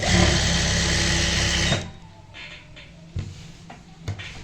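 A sewing machine stitches down a folded fabric margin on a palazzo garment, running fast and loud for under two seconds before stopping abruptly, then followed by a few soft handling knocks.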